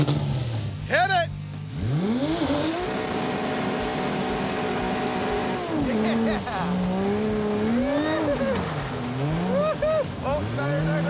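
A Dodge Charger engine revs hard and climbs through gears with squealing tires, loud and continuous, pitch rising and dipping as it accelerates and slides, with voices talking over it.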